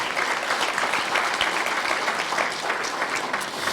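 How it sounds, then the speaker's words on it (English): A crowd at a college and public schools symposium applauds steadily, a dense, loud wash of many hands clapping without pause and with no talk over it. "How about a round of applause?"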